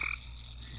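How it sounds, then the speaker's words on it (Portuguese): A frog croaks in the Roblox video game, a single short, close croak with a steady buzzing tone. "Tem cuidado com esse sapo aqui"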